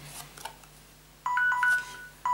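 A quiz countdown timer rings as the fifteen seconds run out, sounding as a clear electronic beeping tone in two short bursts after a moment of quiet, fairly close and with no talking over it.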